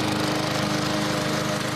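Lawn mower engine droning at steady speed, close and loud, no voices.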